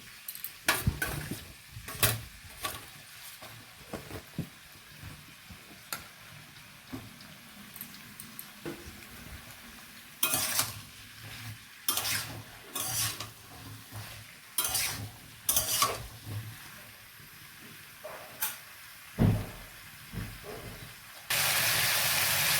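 Chopped ridge gourd for a vegetable curry is stirred in a hot pan, with irregular close scraping strokes over a soft sizzle and a louder burst of frying at the end.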